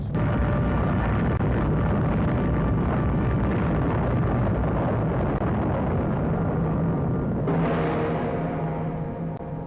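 An atomic bomb blast in old film footage roars as a sustained, dense rumble, loud throughout, with a sudden swell of fresh rushing noise partway through.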